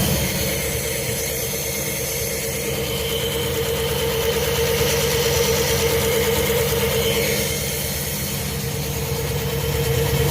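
A car engine with the hood open idles steadily, a constant mid-low rumble with a slight vibrating hum. The vehicle has a reported overheating problem and an oil leak, and no one speaks.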